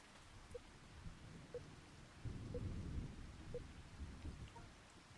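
Steady rain patters in a Farming Simulator 25 farm scene, with a low rumble of thunder swelling in the middle; the hiss is soft and constant, with no voices.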